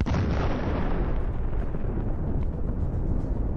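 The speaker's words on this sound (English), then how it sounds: "The missile hits the target." A HIMARS missile strikes a Russian convoy hidden among trees, producing a heavy, continuous, deep roaring blast rumble that fills the moment without pause.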